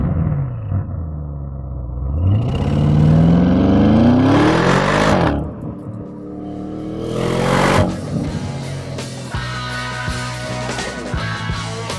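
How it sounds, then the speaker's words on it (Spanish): An Audi RS7 exhaust sounds loud and close while driving, rising through a rev sweep, easing briefly, then surging again before settling into a rumbling cruise. "Alto y notable, el sonido del escape estará siempre presente,"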